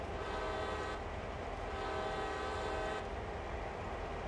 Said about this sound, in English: Then we do two honks of the horn.